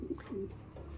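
A pet bird kept on a diet of small seeds gives a soft, low coo. It is close and quiet and lasts about a second.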